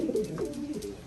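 A racing pigeon at its loft after a 500 km federation race coos softly nearby, a low throaty burbling call repeated a few times with no talk over it.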